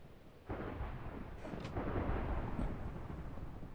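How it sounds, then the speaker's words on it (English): Thunderstorm weather in Minecraft's Twilight Forest, a rain-like roar rising after a sudden onset with rumbling thunder and brief sharp crackles, fairly quiet in the mix. "The thunderstorm is crazy loud. I'm actually gonna turn down the weather noise."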